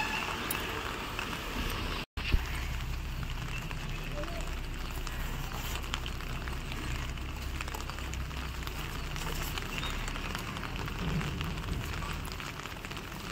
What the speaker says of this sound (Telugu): వర్షం ఇంకా పెరుగుతుందండి